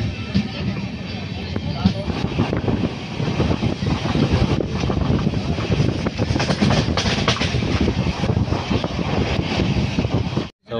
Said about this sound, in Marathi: इंदापूर रेल्वे स्टेशन आलं आहे, पण ट्रेन काही इथे थांबणार नाही